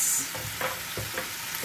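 A tofu dish with a little added sugar being stirred in a hot pan, giving soft scraping stirs over a steady sizzle in a short, close burst.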